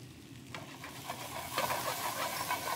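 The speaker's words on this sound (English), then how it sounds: "We're going to add the mushrooms. We're going to add the lemon zest, nutritional yeast, little red pepper flake, and we'll let that saute just briefly." Garlic, mushrooms, lemon zest and red pepper flakes sauté in a pan, a faint steady sizzle with a few soft stirring scrapes, heard alone and fairly quiet.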